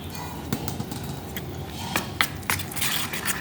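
Spoon scraping and squishing through gola ruti batter mixed with sugar, chopped onion and green chilli, close and steady with irregular clicks of utensil against the bowl.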